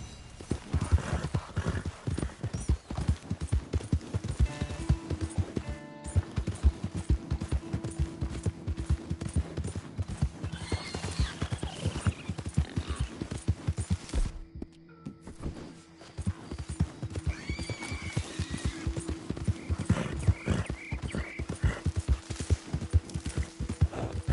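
Horse hooves on a 2014-era Western trail in the video game Red Dead Redemption 2: a steady, rapid clip-clop of a galloping mount, close and continuous, with two short pauses and a faint whinny, no talking.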